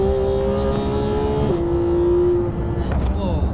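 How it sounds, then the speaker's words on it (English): A high-performance sports car, one of a Ferrari 458, Porsche GT3 or AMG SLS Black, at full throttle on a race track, its engine droning loud and sustained with a pitch shift midway as it shifts gears. "Out wide, bring it back again, full throttle there."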